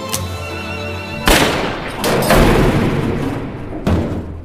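Gunshots in a Korean revenge thriller film scene, with two heavy, loud blasts about two and a half seconds apart and a thudding impact between them, over a booming, echoing background, with no voices.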